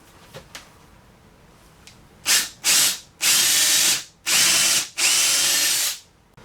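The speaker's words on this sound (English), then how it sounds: "we're just going to drill a few so you can see" A power drill with a depth stop bores 3/8-inch holes in parts for a kids' table and chairs, five loud bursts in quick succession, the later ones longer and steadier, after a few faint clicks.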